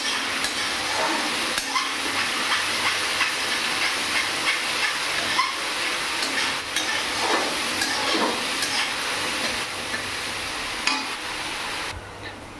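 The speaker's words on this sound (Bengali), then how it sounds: "দেখো একটু রসুন আর পেঁয়াজ বাটা একটু নাড়াচাড়া করে নিচ্ছি" Garlic and onion paste frying for a mutton dish, a steady hissing sizzle with intermittent spoon scrapes and knocks against the pan, close and constant, cutting off abruptly at the end.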